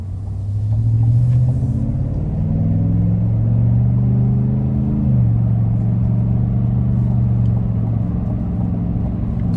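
A 2026 GMC Sierra 1500 SLT pickup with the 6.2-litre V8 and active exhaust in sport mode gives a loud, continuous, deep exhaust rumble whose pitch climbs, dips and climbs again while driving, with no talk.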